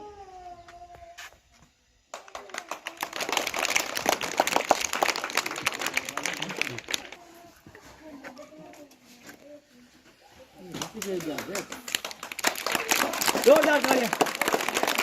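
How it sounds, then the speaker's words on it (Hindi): Loud applause from an audience at a school event in the Thar desert near Bikaner, Rajasthan, with two long bursts of dense clapping separated by a quieter stretch where people talk. "जोरदार तालियां।"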